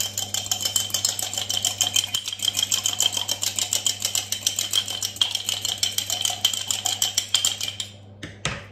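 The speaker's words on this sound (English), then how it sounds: "Give that a good whisk to emulsify" A fork whisks olive oil and maple syrup dressing in a bowl, a fast, steady metallic clicking and rattling kept up for about eight seconds, close and fairly loud over a low hum, then it stops.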